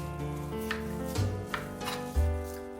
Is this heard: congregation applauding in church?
no